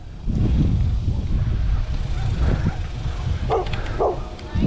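Several dogs at a rescue shelter housing hundreds of dogs bark and yip in scattered bursts, fairly close, over steady low rumbling background noise, with a few higher whining cries near the end.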